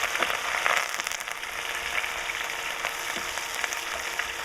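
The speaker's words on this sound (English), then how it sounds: "the curry leaves. Gonna keep popping, very interesting here." Curry leaves and screw pine frying in hot oil for a Sri Lankan dahl give a dense, close sizzle with small pops and crackles throughout, loud and steady, with no talk.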